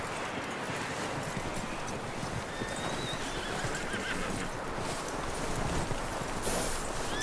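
A horse in Red Dead Redemption 2 whinnies amid clip-clopping hooves and busy game ambience, the neighing and hoof beats fairly close and steady throughout.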